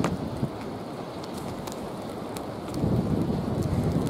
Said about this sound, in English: Even though the rain's pelting down on me.